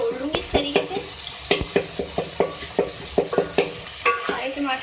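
Softened tomatoes are mashed and broken up in a cooking pan, a quick run of repeated spoon knocks and squelchy scrapes over a faint sizzle, close and fairly loud, with no speech.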